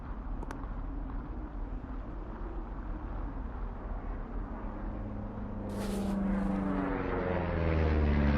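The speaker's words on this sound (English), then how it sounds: "You see that plane?" An airplane in the video game Firewatch drones overhead with a low, steady engine rumble that grows louder and rises toward the end, over wind-like background noise.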